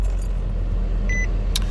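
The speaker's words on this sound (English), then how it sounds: "I'm about to turn my car on" Keys jingle briefly near a car as it is started, a few bright metallic chimes and a short tone over a low steady hum of the vehicle, close and without talk.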